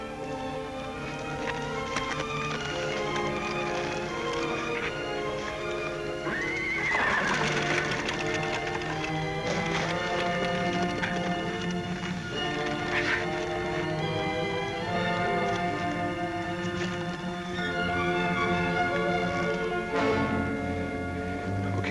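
A horse in a western ranch drama neighs with one loud, rising and falling whinny early on, amid ongoing hoofbeat clip-clops and a dense background score that runs throughout.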